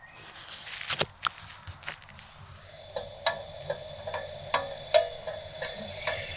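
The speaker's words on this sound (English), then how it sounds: "Starting to hear it slightly sizzle." Quiet, steady sizzling with faint hiss from pesto pasta cooking in one pot on a wood stove inside a hot tent, punctuated by scattered soft clicks and knocks at an irregular pace, close by.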